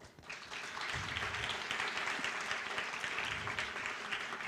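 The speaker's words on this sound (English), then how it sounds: "So I think we could give an applause to us or our government." An audience at a youth leadership seminar breaks into applause, a dense, sustained clapping that swells in quickly and holds steadily throughout at moderate loudness.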